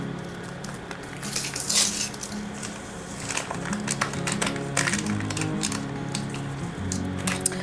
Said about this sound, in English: and then you whisk it for 2 minutes.